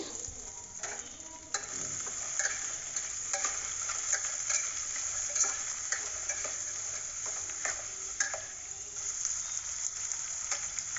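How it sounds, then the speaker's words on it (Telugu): Onions, curry leaves and capsicum fry steadily in a pan for paneer pulao, a continuous close sizzle broken by occasional scrapes and stirs, with no talking. "ఇప్పుడు అలాగే అందులోకి క్యాప్సికమ్ వేసుకొని ఇవి బాగా ఫ్రై చేసుకుందామండి"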